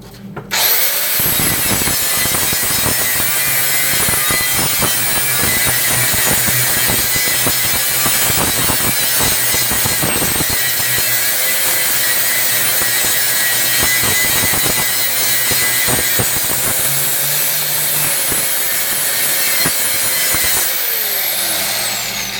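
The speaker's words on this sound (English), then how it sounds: "Alright, let's grind that off and see." A power grinder works down a weld on a steel car fender, a loud continuous abrasive whine that runs almost unbroken for the whole stretch, close up with no talk.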